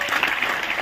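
Audience applause at a business seminar, a brief burst of steady, fairly loud clapping from a crowd.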